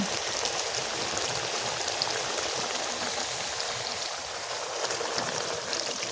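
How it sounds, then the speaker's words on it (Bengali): Country chicken curry braising in a pan over high gas, a dense, continuous bubbling sizzle heard close and at steady volume throughout, with no talking. "গ্যাসটা জোরে রেখেই পুরো মাংসটাকে কষে নেব যতক্ষণ না পর্যন্ত এই জলটা পুরোটা মরে গিয়ে তেল ছেড়ে দিচ্ছে"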